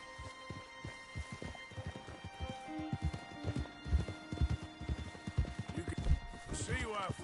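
Horses trot along in the video game Red Dead Redemption II, hooves clip-clopping in a steady, fairly close rhythm, with a brief whinny near the end.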